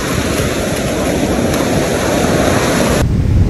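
Ocean surf rolls steadily onto a beach, a loud continuous wash of breaking waves with wind buffeting the microphone throughout, no voices.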